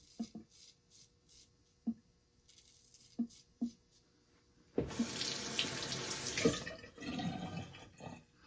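A bathroom tap runs into a sink with no plug, and the water gushes loudly and steadily for several seconds after a series of small clinks and taps.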